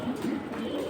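Restless pigeons shift and coo softly in a loft, a close, steady low murmur with no talking.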